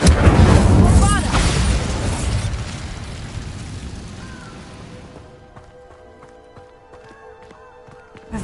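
A Bombarda blasting spell explodes in Hogwarts Legacy, a loud booming burst up front that slowly rumbles and fades, leaving quieter game ambience and faint tonal effects behind.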